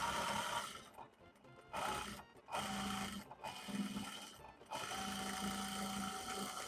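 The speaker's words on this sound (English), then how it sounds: "I'm gonna resew that whole damn seam because that's just not right" A sewing machine restitching a pants seam runs in bursts of fast mechanical whirring and needle chatter, stopping briefly several times between runs, close and steady, with no talk.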